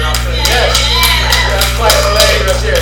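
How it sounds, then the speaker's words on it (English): An audience claps steadily in dense, continuous applause, with sharp hand claps layered over a low steady hum and some talk mixed in. "Yeah, clap the lady right there."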